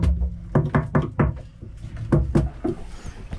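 A screwdriver strikes a boat's structure during a tap test for hollow, damaged areas, producing about a dozen close, woody knocks in irregular clusters, some dull and thunky.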